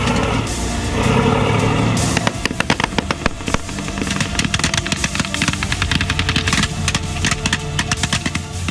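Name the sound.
gunfire at the front line in Syria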